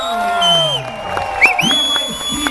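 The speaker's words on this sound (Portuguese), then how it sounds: "a nossa enorme salva de palmas!" An audience at a children's choir performance in Brazil cheers and whoops with high voices and whistles, backed by scattered clapping; the burst is loud and lively and stays busy for a couple of seconds.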